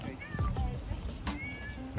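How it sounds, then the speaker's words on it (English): A cat on a Hawaii vacation gives a few short meows, mixed in with people talking nearby. "And there's another cat."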